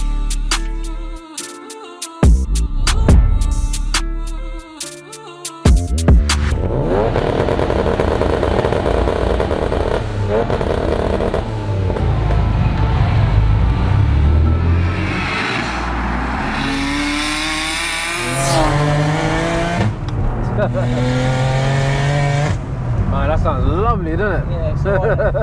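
A 660bhp single-turbo BMW 335i starts up with clattering bursts, then drives off and accelerates hard, its engine rising and falling through loud revving, close to the listener.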